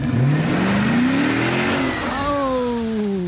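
A 2018 Dodge Charger police car with all-wheel drive revs hard with traction control off, its engine note climbing loud and close as the wheels spin, then dropping and rising again without talk.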